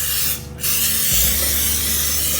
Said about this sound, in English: I'm going to use my cooking spray to oil my pan.